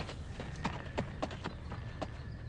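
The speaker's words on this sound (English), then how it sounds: "The final horse for this year's hits team is Thunder" Horse hooves clip-clop steadily on hard ground in a Budweiser Super Bowl commercial, a regular series of sharp knocks at a moderate distance over a soft background.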